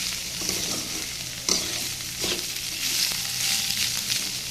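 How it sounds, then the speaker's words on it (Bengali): Bottle gourd fries in a pan with a steady, close sizzle, while a utensil stirs and scrapes through it in irregular strokes, one sharper knock partway through. "এই যে লাউটা কিন্তু ভাজতেছি, বেশ ভালো করে ভাজতে হবে লাউটা।"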